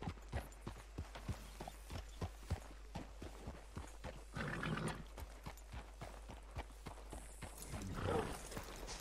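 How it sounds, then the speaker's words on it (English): Horse hooves clip-clop at a steady walking pace in the video game Red Dead Redemption 2, regular and fairly close. A brief whinny rises near the end, with no talk over it. "Hitch your horse up here."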